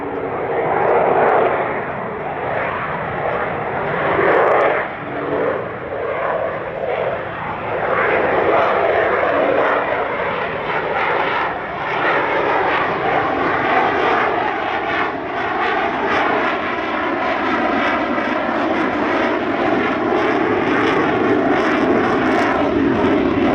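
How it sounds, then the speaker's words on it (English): An F-35 fighter jet performs a high angle of attack pass at the Wings Over Illawarra 2021 airshow, its engine producing a loud, sustained roar that holds steady for the whole stretch with no voices over it. "And here's a look at the F-35's high angle of attack performance."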